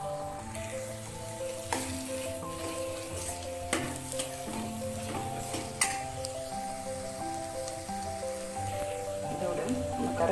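Mashed elephant yam sautéing in a pan with coriander and chilli powder, a steady soft sizzle stirred throughout, with a few sharp clinks of a spoon against the pan and music playing over it.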